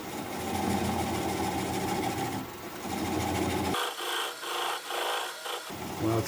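A bowl gouge cuts into a rustic driftwood bean pot spinning on a wood lathe at low speed, a rough scraping rasp that drops to lighter, pulsing cuts partway through.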